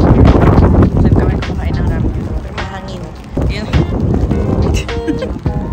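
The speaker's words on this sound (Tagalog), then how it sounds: "Ang hangin. Ang hangin." Strong wind buffets a microphone outdoors in Seoul, producing loud, rumbling gusts that swell and ease throughout, with a voice talking over the blustery noise.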